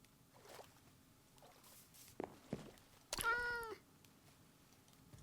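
A cat in the video game Minecraft gives a clear, drawn-out meow after a few soft shorter mews and light clicks, against quiet game background.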